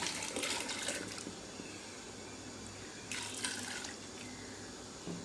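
Water pouring from a tap into a large pot holding chana dal for a commercial batch of haleem, a continuous low splashing stream with two brief brighter gushes.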